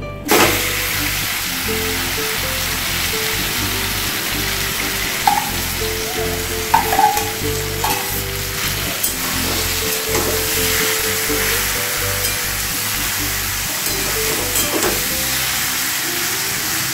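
Jujubes (kul) frying in hot oil with dried red chillies for a pickle give a loud, steady sizzle and crackle the whole way through, with occasional utensil clinks from stirring.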